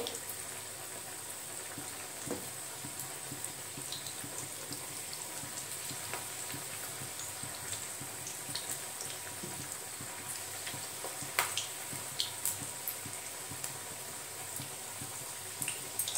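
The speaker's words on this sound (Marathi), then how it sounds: "जेवढ्या राहतील तेवढ्याच आपण तळण्यासाठी कढईमध्ये टाकायच्या आहेत" Continuous hissing and bubbling of green moong dal pakoras deep-frying in hot oil in a wok over medium heat, steady throughout with occasional small pops.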